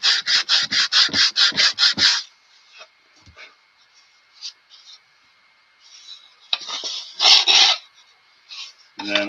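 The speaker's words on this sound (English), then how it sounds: "I gotta sand that 1/4 inch spruce down." Quarter-inch spruce is sanded by hand with a rapid series of about nine rhythmic scraping strokes, then quieter intermittent rubbing and a couple of longer harsh passes, close up without talk.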